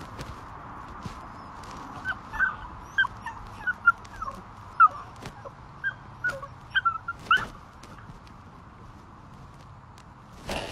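A small dog whimpers and whines in short, high-pitched bursts, with soft footsteps and light movement in the background.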